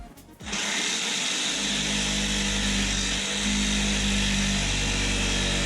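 A Sawzall reciprocating saw cuts through a protruding screw on an aluminum-railed model base, a loud, steady buzzing whine that starts abruptly and holds for several seconds with no talk.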